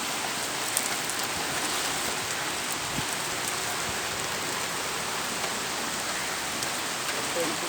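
Steady evening rain falls hard and evenly on surfaces, a dense unbroken hiss with occasional louder drops, constant from start to finish and with no voices.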